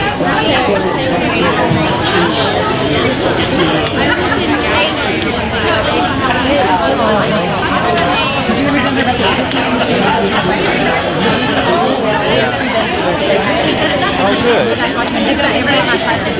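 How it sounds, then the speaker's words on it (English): Steady crowd chatter fills a venue at night, a dense, continuous babble of many overlapping voices at close to moderate distance with no single speaker standing out. "Looks like they got a little crowd here tonight."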